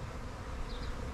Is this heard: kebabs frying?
no